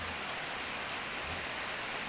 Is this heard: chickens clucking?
no